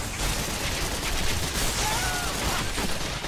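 Rapid gunfire from the Gotham City Impostors shooter rattles on continuously at moderate loudness, a dense, steady stream of shots under busy game ambience.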